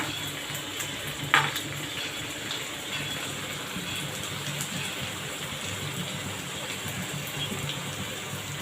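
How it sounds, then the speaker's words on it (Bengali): A piece of rohu fish fries in spice masala in a pan, giving a dense, even sizzle like rain, with one sharp clatter early on and no voices. "মাছটা এখানে রুই মাছ এক টুকরা ভোনা করা হচ্ছে"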